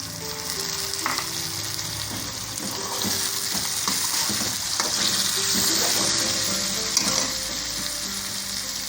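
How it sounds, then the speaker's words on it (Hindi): Potato pieces go into browned onions in a hot pan for aloo matar pulao, giving a steady, close sizzle and frying hiss with light scraping and stirring clatter throughout. "प्याज हमारे ब्राउन हो चुके हैं, अब इसमें जाएंगे आलू।"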